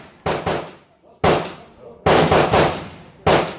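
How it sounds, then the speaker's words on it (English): A semi-automatic Winchester SX4 shotgun fires four loud, sharp blasts at an outdoor range aimed at 50 yards, each with a fading echo, the shots spaced irregularly about a second apart. "Now we're doing the shotgun. 50 yards."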